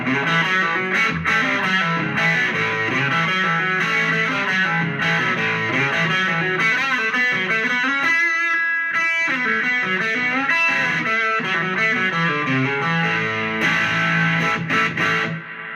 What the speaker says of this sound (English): we're going to see what this thing sounds like with a little bit of distortion